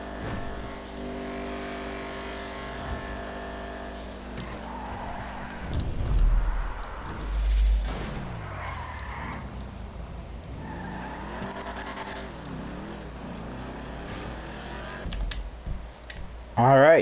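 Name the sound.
muscle car engine and skidding in the video game GTA V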